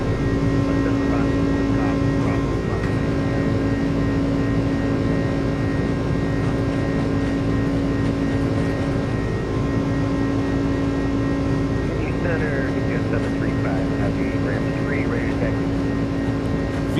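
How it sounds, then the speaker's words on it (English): iniBuilds A300 jet engines spooled to takeoff power in Microsoft Flight Simulator, a steady, loud, droning roar with a sustained whine that fills the whole stretch, with occasional faint voices over it. "Takeoff power is set."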